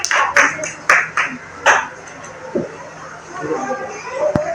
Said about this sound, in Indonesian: Iya, tepuk tangan dulu untuk kawannya.